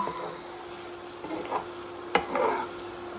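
Sisig frying in a pan as its oil renders out, a soft continuous sizzle with occasional spatula scrapes and a sharp clack, close by with no talking.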